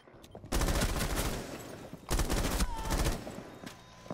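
Rapid bursts of video game gunfire crackle in two long volleys, loud and close, with brief gaps between them and scattered single shots.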